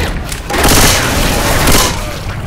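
Gunfire in the zombie shooter Left 4 Dead 2, a loud, dense burst of rapid shots that booms continuously for about two seconds, with brief voice chatter around it.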